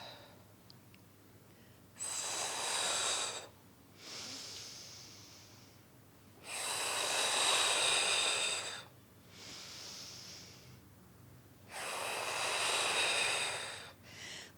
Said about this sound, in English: So we are breathing out as we are opening here and breathing in as we are closing